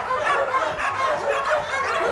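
Small dog barking and yipping in quick repeated bursts, fairly close, with no talk over it.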